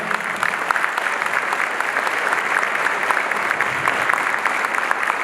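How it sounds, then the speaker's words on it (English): A gala audience applauds a mayor with warm, continuous clapping, a dense steady crowd sound held at even loudness from start to finish. "let's give a round of warm applause for our mayor, Brandon Johnson"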